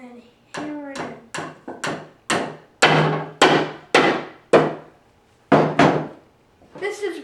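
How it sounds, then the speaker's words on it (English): Hammer strikes driving nails into wood while building a wooden toolbox, about ten sharp, close blows in an uneven rhythm with short pauses, a voice faintly heard at the start and end. "And hammer it in."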